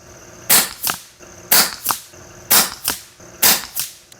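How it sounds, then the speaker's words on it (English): An FX Wildcat air rifle fires pellets at a 100-yard range: four sharp, loud shots about one second apart, each a crisp crack followed by a brief echoing smack. "let's try and shoot the remainder of these pellets at the 5"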